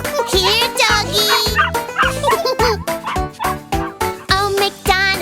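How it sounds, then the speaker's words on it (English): A dog barks in a rhythmic run of short, bright yips and woofs for a children's farm-animal nursery rhyme, repeating steadily over an upbeat musical backing. "Here, doggy."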